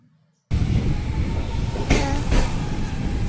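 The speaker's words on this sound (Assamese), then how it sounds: "ট্ৰেইন ষ্টাৰ্ট দিলে।" A passenger train pulling away from a station in Assam: after a brief quiet moment a loud, close rumble of wheels and carriages starts abruptly and keeps rolling, with a couple of sharp clanks from the coupled wagons.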